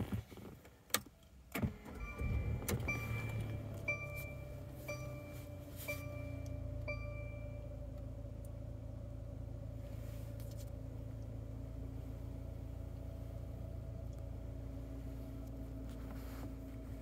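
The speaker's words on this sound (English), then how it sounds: "Now let's hear how this vehicle sounds. It is a push button start." A 2017 Mercedes-Benz C300 4MATIC with push-button start gives a few clicks and chimes, cranks into a brief engine surge, then settles into a smooth, steady, quiet idle that continues for over ten seconds.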